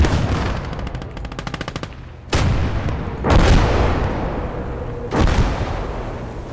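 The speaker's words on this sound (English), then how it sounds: "send some artillery over" Artillery and gunfire in the war game Kampfgruppe: a rapid burst of machine-gun rattle followed by three loud, heavy booming blasts that roll on and decay, dense and continuous.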